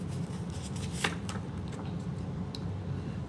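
Tarot cards being shuffled by hand, a steady soft riffling and rustle of card stock with a few sharper flicks, close and continuous with no talk.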